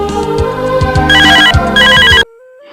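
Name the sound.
mobile phone ringing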